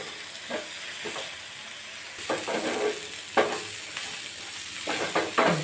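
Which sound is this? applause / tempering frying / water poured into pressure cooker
tempering frying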